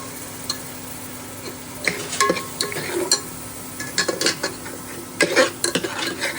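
Ground masala paste is stirred into frying onions in a pot, producing clattering spoon scrapes and knocks against metal in irregular bursts over a low sizzle, close by.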